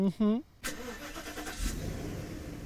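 A voice speaks briefly, then a 5-litre V8 car engine cranks and catches, settling into a deep, rumbling idle close by.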